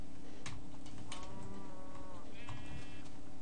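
Cow from the video game Minecraft lowing in a few drawn-out, nasal moos with short clicks between them, close and clear over a steady background hum, with no one talking.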